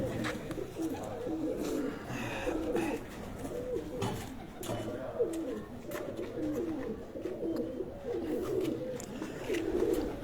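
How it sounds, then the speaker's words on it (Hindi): A male breeder pigeon held in the hand coos repeatedly in soft, throaty rolling phrases that recur at a steady pace, fairly close and moderately loud, with light background noise. "वसीम भाई के हाथ में एक और कबूतर आपको मैं दिखा रहा हूँ"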